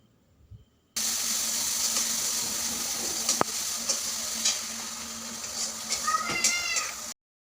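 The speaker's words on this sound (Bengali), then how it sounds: "এবার বেটে রাখা মশলা দিয়ে দিল রসুন, আদা আর জিরে বাটা। এবার মশলাটাকে খুব ভালোভাবে কিন্তু কষিয়ে নেবে।" Onion with a ground paste of garlic, ginger and cumin frying in a pan over a coal fire while chicken curry is being made, a steady close sizzle with occasional stirring scrapes, with a brief cat-like squeak near the end.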